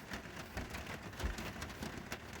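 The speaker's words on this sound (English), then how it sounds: "But it's pouring out." Heavy rain pours steadily outside a parked camper van, a continuous dense patter and hiss with occasional louder drops drumming on the roof, close and enveloping with no voices.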